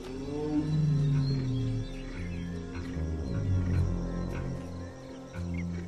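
Tiger in the Indian jungle giving deep, low roaring calls, a series of rumbling, drawn-out roars that swell and fade in two main bursts, fairly distant and resonant, with faint bird calls behind.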